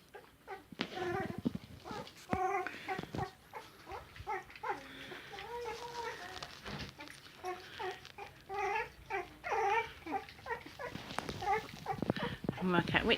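Sprocker spaniel puppies whimper and whine in thin, high, wavering cries that come in short repeated bursts close by, mixed with people talking softly and some handling noise.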